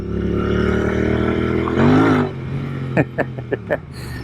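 A custom Royal Enfield Interceptor 650 twin, the Black Prince by Baxter Custom Works, revs hard and spins its rear tire on loose pea gravel. A steady close engine drone swells into a rising rev burst, followed by several sharp bursts.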